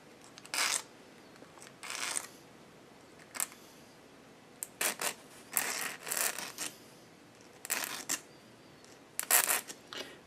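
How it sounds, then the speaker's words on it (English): Irregular bursts of rasping round-file strokes scraping plastic on a Ruger 10/22 trigger part, some quick and clustered, others spaced apart, close by with no talking. "That's why I'm using a round file."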